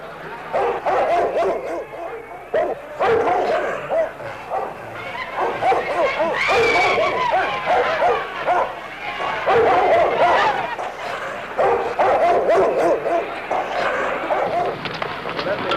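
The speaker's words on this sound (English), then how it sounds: "brought out the city's police dogs." City police dogs bark and yip at a civil rights march in Birmingham, Alabama, repeated loud barks over crowd noise and a voice speaking throughout.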